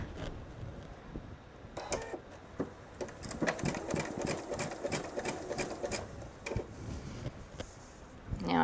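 A home sewing machine running a straight stitch on a jelly roll purse, a steady rapid mechanical chatter that speeds and slows in short runs, close and clear.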